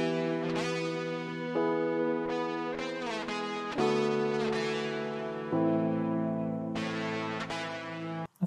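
An electric piano plugin plays a sequence of sustained chords and melodic notes in a steady, moderate passage, with a warm, slightly distorted and chorused character and no voices.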